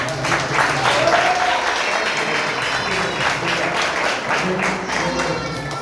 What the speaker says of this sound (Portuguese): Você pode aplaudir a Deus pela vida do